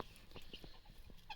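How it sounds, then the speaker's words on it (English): Guinea fowl in a chicken area give faint, scattered clicking calls, distant and low in level, with short bursts spaced irregularly across a quiet background. "because of the noise of the other guineas, who are still"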